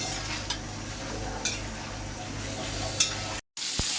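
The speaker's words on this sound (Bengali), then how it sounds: "হয়ে গেছে বেগুনটা ভাজা" Eggplant pieces coated with turmeric frying in a pan of oil, giving a steady close sizzle with a few soft stirring clinks, then a brief drop to silence near the end.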